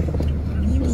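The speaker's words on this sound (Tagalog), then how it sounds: "Pakadaming sasakyan." Car engine rumbling past in dense traffic on a crowded market street in Cabanatuan, a loud steady low drone with a rising tone near the end, under a voice speaking.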